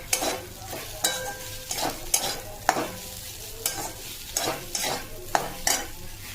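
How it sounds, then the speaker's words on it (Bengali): A spatula scrapes and knocks rhythmically against a pan while a soybean filling stir-fries with a soft sizzle, about a dozen strokes in quick succession. "এবার এটা আমি একটু ভাজা ভাজা করবো, ভাজা হোক সয়াবিনটা।"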